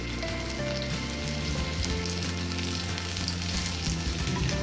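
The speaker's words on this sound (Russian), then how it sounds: "обмакиваю рулетики сначала в яйце, а затем в хлопьях и выкладываю на разогретую сковороду" Bread rolls coated in egg and flakes sizzle and crackle in hot vegetable oil in a frying pan, a steady close frying hiss with no voices.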